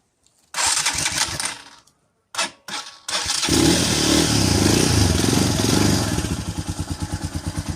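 A Shineray 250 motorcycle engine sputters through a few failed attempts, then catches and settles into a steady, loud, close idle with a rhythmic throb.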